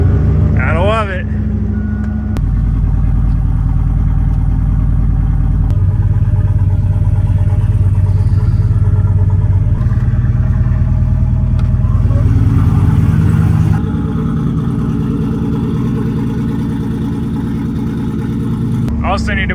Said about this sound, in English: Also need to put a quieter exhaust on this thing. Way too loud for a street truck.